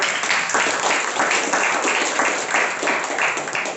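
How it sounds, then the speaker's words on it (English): Applause from a speakers' forum meeting audience, a steady wash of many hands clapping at moderate loudness for nearly four seconds, with no talk over it. "Can we give a round of applause?"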